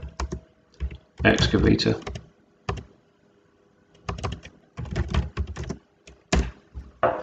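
Typing on a computer keyboard while entering notes into Asta Powerproject planning software: bursts of quick, close key clicks in several runs, with a voice speaking between and over them.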